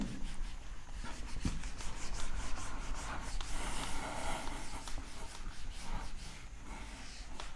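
Steady scrubbing of chalk or marker writing being rubbed off a classroom board, a continuous close rasp of even strokes lasting several seconds, with no talking.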